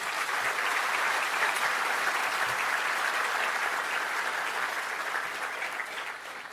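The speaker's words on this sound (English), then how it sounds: "Ladies and gentlemen, please give these outstanding people a round of applause." Sustained crowd applause at an awards ceremony, a dense steady wash of many hands clapping that holds strong throughout and tapers only slightly at the end, with no talking over it.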